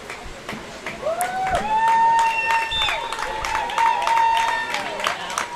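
A stadium crowd at a New York Cosmos soccer match cheers and claps as a substitute comes on, a steady roar under a commentator talking, cut through by sustained, wavering whistle or horn tones.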